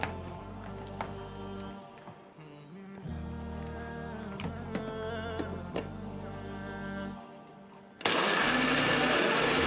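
A blender blitzes berries, banana, yogurt, almond and milk into a smoothie, with the motor whirring and changing pitch as it churns, then surging into a loud, dense roar for the last couple of seconds.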